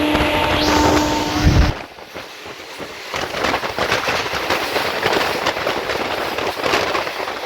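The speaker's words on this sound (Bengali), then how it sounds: "সব থেকে শক্তিশালী ইঞ্জিন গেল কিন্তু এখন" A powerful train locomotive rushing past on a rainy day near Nandaigajan station, a loud whooshing roar with a sharp tonal horn-like start that cuts off, then a sustained broadband rumble and rattle.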